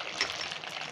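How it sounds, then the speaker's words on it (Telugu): Dried red chillies, cumin and mustard seeds sizzle steadily in hot oil for a sambar tempering, a dense close crackling hiss with a brief sharper pop early on, with no talking. "నూనె వేడి చేసుకున్నాను కదండి, ఎండుమిరపకాయలు, జీలకర్ర, ఆవాలు వేస్తున్నాను."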